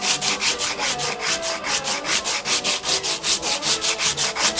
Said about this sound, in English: Sanding and shaping.